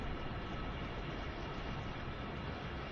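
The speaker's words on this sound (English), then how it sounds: "You hear the train in the background there." A train in the Train Sim World 3 video game rumbles past in the background as a steady, low, continuous drone with no distinct clacks and no speech over it.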